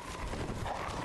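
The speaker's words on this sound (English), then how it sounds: "it's so fun that they actually have normal dogs here" Dogs barking and yelping in the Hunter's Nightmare area of the game Bloodborne, a dense, continuous flurry of close, loud canine noise over game ambience.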